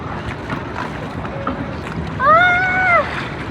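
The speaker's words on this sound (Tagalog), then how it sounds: "It's paraw sailing." A traditional paraw sailboat with no engine, sailing off Boracay, glides with a steady rush of wind and water. A brief, high, whistling cry rises near the end.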